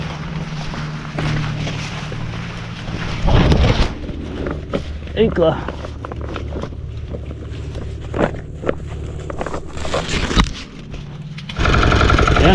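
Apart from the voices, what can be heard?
boat engine running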